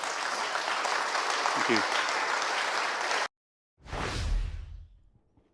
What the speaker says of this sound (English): So you notice what got the applause of that crowd, didn't it?